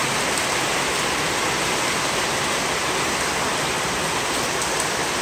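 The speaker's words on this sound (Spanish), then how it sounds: "está lloviendo fuertísimo, todo lo que da" Heavy rain pouring down at a rural ranch in Mexico, a dense, unbroken roar of hissing downpour, loud and close with no other sounds.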